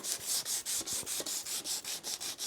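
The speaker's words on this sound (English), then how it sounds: "just start rubbing away on the fork leg, getting this old crappy lacquer off" Steady rhythmic rubbing as old lacquer is worked off a motorcycle fork leg, about a dozen even strokes back and forth, close and fairly loud, with no talking.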